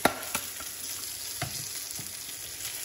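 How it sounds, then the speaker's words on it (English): Squash and onion sauté in a buttered pan seasoned with garlic salt, giving a steady close sizzle with a few light scraping clicks of stirring. "And saute it."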